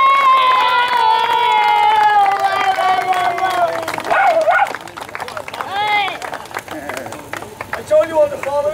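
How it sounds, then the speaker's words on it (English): Crowd cheering, whooping and applauding at a CTR award presentation for a runner-up in the Vets Clubman class, loud and continuous, with shouted voices and chatter over the clapping. "Big round of applause for the big man."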